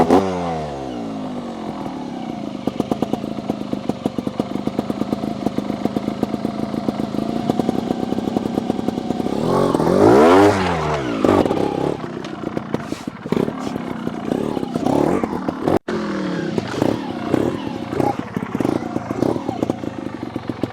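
A Sherco SHT 300 trials motorcycle rides in first gear, its engine revving and dropping in steady cycles up close, with throttle blips, sharp rising and falling surges and some clatter as it climbs obstacles.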